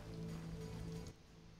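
Steady rain falls in The Witcher video game, a continuous soft hiss with a low hum beneath that thins out abruptly partway through, leaving a quieter wash of ambience.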